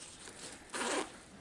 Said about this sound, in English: But zippers do feel like pretty good quality.